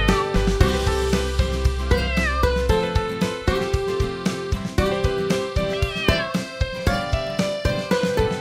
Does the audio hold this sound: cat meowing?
yes